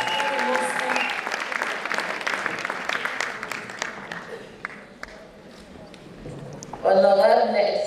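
Audience applause at a ceremony honouring a provincial official, a steady crowd clapping that fades midway, then a voice cuts in loudly at the end.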